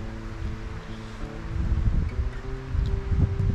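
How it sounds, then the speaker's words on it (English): Strong wind gusts buffet a lakeside campsite in Temagami, roaring and rumbling low with rustling and water noise, steady and close with surging bursts and no voices. "The wind is howling in the direction that we need to come from"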